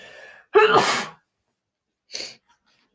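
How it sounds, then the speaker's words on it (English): A single loud sneeze with a sharp intake and burst, close to the mic, followed by a quieter sniff-like breath and silence. "because I keep sneezing and having to blow my nose"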